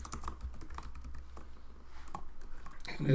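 Python code is being typed on a computer keyboard: light, irregular key clicks at close range, moderately quiet, with a louder knock right at the end and no talking.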